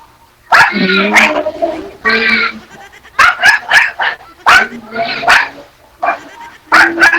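A nearby dog barks repeatedly in agitated bursts, loud and insistent, with brief gaps between volleys.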